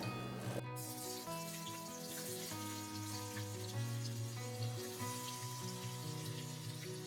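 A whole diced onion fries in a pot with a soft, even sizzle that runs throughout, under steady sustained tones in the background.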